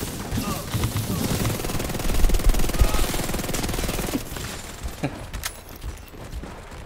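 Rapid bursts of video game gunfire crackle continuously through a busy firefight, with repeated automatic shots layered and fairly loud, easing slightly toward the end.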